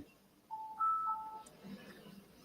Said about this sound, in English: That's just sonar.